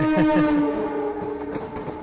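A passenger train rolls past with a steady rumble and a sustained, tonal horn-like drone, loud and close, with no voices.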